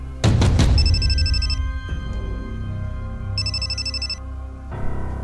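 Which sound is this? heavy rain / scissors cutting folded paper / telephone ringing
telephone ringing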